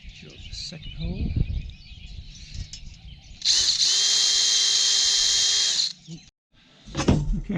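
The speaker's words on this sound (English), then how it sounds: "Drill the second hole." A power drill bores a hole in a piece for a childproofed Airstream bunk bed, giving a loud, steady whine of about two and a half seconds, with lighter handling clatter before and after.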